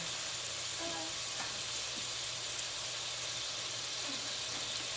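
Steady, quiet sizzle of steak cooking in a pan, a soft continuous hiss with faint crackles throughout and no talking.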